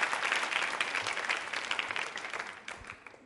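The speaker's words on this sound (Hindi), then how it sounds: "तालियां बजाइए इनके लिए, जोरदार तरीके से" Audience at a college quiz show on Rajasthani culture claps loudly for a correct answer, a dense burst of applause that gradually thins and fades toward the end.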